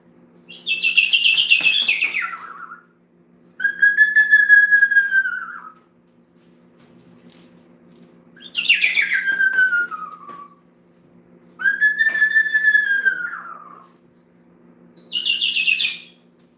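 A pet bird whistles clear, drawn-out notes, alternating rising-falling whistles with bright chirpy bursts in five separate phrases, close and loud against a faint steady hum, with no talk.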